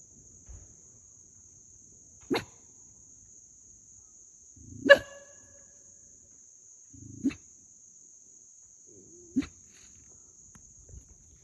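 A guard dog barks outdoors at night: four or five single, sharp barks spaced a couple of seconds apart, moderately near, with a steady high insect or cricket drone running underneath.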